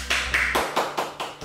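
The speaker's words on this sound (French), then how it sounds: "vous pouvez vous applaudir" A few people clap after finishing a HIIT full-body workout class, roughly eight quick even claps over a second and a half, close and fairly loud.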